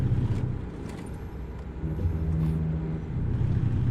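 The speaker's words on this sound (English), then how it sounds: "This is like normal truck sounds." Truck engine in American Truck Simulator cruising on the highway, a steady low drone with a sustained hum that swells slightly near the end, heard alone without talk.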